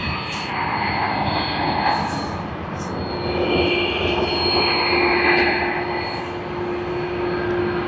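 United Boeing 787-9 Dreamliner jet, flight UA842 to Los Angeles, starting its takeoff roll at Sydney Airport: a steady, loud engine roar with a thin high whine, building gently and holding strong throughout.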